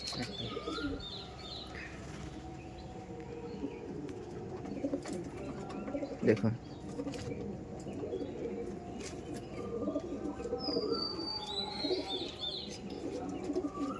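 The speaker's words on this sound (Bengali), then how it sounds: "এটা ছিল নর পায়রা, আর এটা হচ্ছে মাদি পায়রা।" Male and female Kaldum pigeons at a Madrasi-breed loft give soft, low cooing in short repeated bouts, with other birds chirping in the background and a person talking over them.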